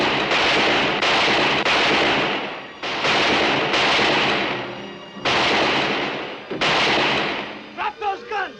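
Western shootout gunfire, a series of loud, echoing gunshot blasts in bursts with brief gaps between them, followed by a voice at the end.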